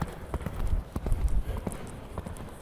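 A horse's hooves thud rhythmically in the arena during a riding lesson over combinations of show-jumping obstacles, with soft, fairly close muffled beats, some faint shuffling and an instructor's voice in the background.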